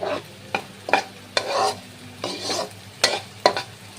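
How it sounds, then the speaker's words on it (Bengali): Beaten eggs being stirred and fried in oil in a wok, with a steady sizzle broken by sharp scraping strokes of the spatula at irregular intervals, close and clear, no talking. "এইভাবে নেড়ে নেড়ে ডিমকে ফ্রাই করে নিতে হবে।"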